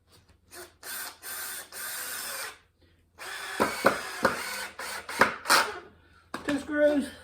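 Power drill driving screws into pallet wood for a stockade prop, several short whirring bursts with clunks and knocks between, close by.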